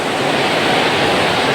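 Strong wind roars at a flooded fair in Porbandar, a loud, steady broadband rush that fills everything without a break, with no voices cutting through.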